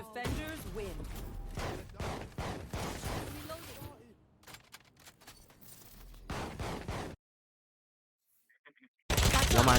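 Rapid automatic gunfire bursts from the video game Valorant, loud and choppy for several seconds with a voice talking over them, then a brief silence before a sudden loud blast of noise.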